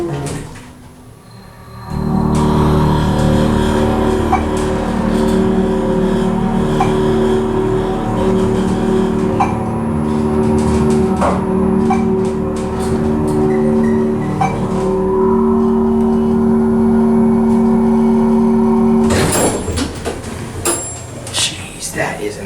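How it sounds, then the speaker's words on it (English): Dover traditional hydraulic elevator motor in a Marriott: loud, steady whining hum with a strong constant pitch starting abruptly, running about seventeen seconds, then cutting off with clunks. "Listen to this motor."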